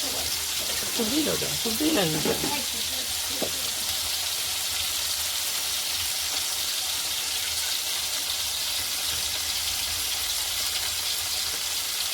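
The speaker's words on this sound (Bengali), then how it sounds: "শাকটা ভাজবো" Leafy greens (shak) fry in a pan with a steady bright sizzle throughout, close and even, while a voice is heard speaking briefly near the start.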